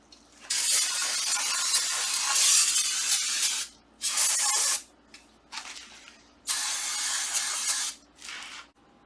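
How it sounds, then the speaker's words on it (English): Brake cleaner sprayed over a Porsche 993 brake assembly: four loud, close hissing bursts, two long and two short, separated by brief quiet gaps. "I'm going to use some brake clean, to clean this whole assembly while I have it open"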